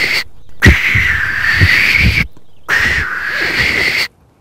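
A person imitates a barn owl's screech with two long, harsh, hissing screeches, each lasting about a second and a half, separated by a short gap, loud and close.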